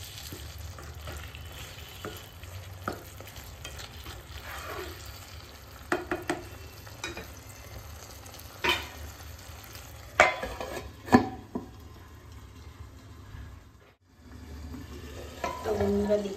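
Chilli chicken cooking in a pan with a little water, a continuous sizzle under frequent scraping and clinking strokes of a spoon, dropping briefly to near silence before the bubbling returns.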